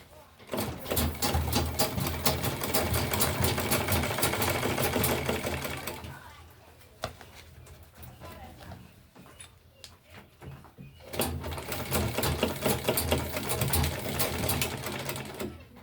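A sewing machine stitches folded tote bag fabric in a fast, steady whirring run of about six seconds, falls quiet for several seconds, then starts again up close.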